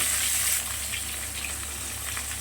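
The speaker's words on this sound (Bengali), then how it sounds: "পটলগুলোকেও ভেজে নেব হলুদ আর একটু নুন দিয়ে" Pointed gourd (potol) frying in oil with turmeric and salt, a dense, steady hiss and sizzle close up, slightly louder at the start then settling into a constant crackling wash.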